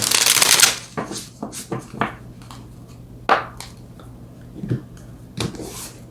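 A deck of tarot cards is shuffled up close, starting with a dense riffling burst and followed by scattered slaps and soft taps as the cards are handled and laid out.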